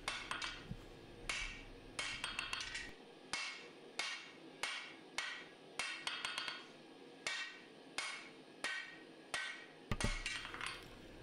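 A hammer strikes a Musso Bowie knife blade at the forge, about a dozen sharp ringing blows at a steady, even rhythm, close and distinct against a quiet background.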